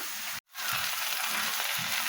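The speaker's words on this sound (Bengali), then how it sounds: "আর এদিকে মাছ ভাজতে দিয়েছি" Katla fish frying in oil, a steady hissing sizzle broken by a brief silent gap near the start.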